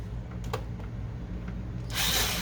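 A power screwdriver removes hinges from an Epson XP-800 printer during disassembly. A few faint clicks lead into a loud, close whirring burst at the end.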